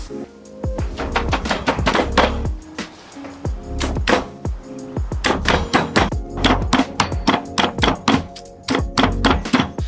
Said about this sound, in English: Now you've got the shredded banana, you need to mash it up in the pestle and mortar